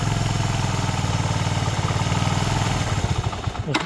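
Close, steady chugging of a Suzuki Djebel 200 motorcycle engine at idle, its rhythmic putter faltering and roughening near the end as the fully closed choke makes it about to stall.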